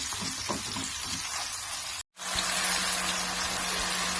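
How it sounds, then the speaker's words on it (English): Chopped red chili and capsicum powder fry in a pan for an omelet, giving a steady, loud sizzle that cuts out briefly for a moment, then resumes with a low hum beneath the crackle. "We will fry it for 2 to 3 minutes"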